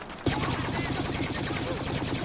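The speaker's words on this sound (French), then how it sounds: "j'ai tiré mes 2 balles de blaster sans me rendre compte" Star Wars Battlefront blaster fire sounds in a busy multiplayer match: a sudden, loud onset followed by a dense, continuous rattle of rapid shots and effects with no pauses.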